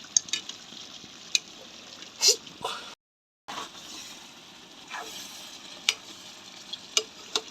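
A spoon scrapes and clacks against a pan as food is stirred in irregular strokes over a soft sizzle, with sharp clicks scattered throughout and a brief total silence midway.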